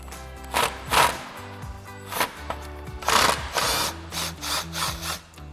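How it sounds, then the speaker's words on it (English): An impact driver with a 10mm socket and extension loosens screws on the upper grille of a 2019-2021 GMC Sierra 1500 Denali, giving several close, loud whirring and hammering bursts separated by short pauses. "Take your 10mm socket and extension on your impact."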